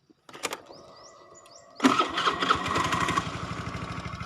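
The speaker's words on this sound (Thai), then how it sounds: "เดี๋ยวสตาร์ทเครื่องให้ฟังนะครับ" A few clicks and a starter whir, then a 2010 Honda Scoopy motor scooter engine catches and settles into a steady, close idle.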